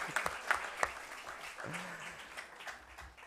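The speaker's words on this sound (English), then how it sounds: "A big round of applause for him." An audience at a book launch applauds the chief guest, Salman Khan, with a steady wash of clapping that holds throughout, a few sharper claps near the start and a voice briefly rising above it.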